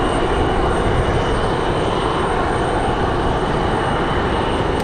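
A Lockheed C-130 turboprop turns in strong wind at an airport, giving a steady, loud engine roar mixed with broadband wind rush that holds constant throughout.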